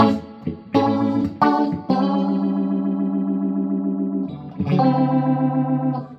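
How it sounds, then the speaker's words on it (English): Sustained electric guitar chords ring through a swirling, warbling modulation effect like a rotary speaker, with pauses between strummed notes. "now I think it sounds like a rotary speaker"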